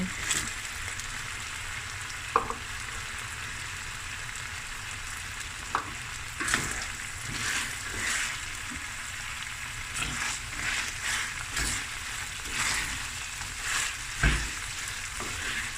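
Finely chopped carrots, snap peas and onion frying in a pan for lamb fried rice, a continuous crackling sizzle up close, punctuated by occasional stirring scrapes and small knocks.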